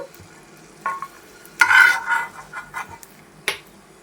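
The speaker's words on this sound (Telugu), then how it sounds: "అరకప్ప బొంబాయి రవ్వ వేసుకుంటున్నాను. ఆ నేతిలోనే వేసుకుంటున్నాను" Semolina frying in ghee, a soft sizzle broken by scraping stirs and a couple of sharp clinks of a spoon against the pan.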